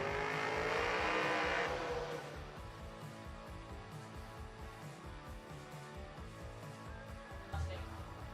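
A Mustang drag car launches down the track at a footbrake drag racing event, a loud rising engine roar that fades quickly into the distance and leaves a low rumble and ambient track noise.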